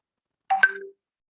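A short mobile phone notification chime of a few quick tones, sounding alone against silence during a talk on gratitude and evolution.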